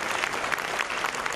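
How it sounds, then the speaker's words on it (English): Ballroom audience at an opening ceremony dinner applauding a sponsor, a brief burst of dense, steady clapping from many people. "a big round of applause for"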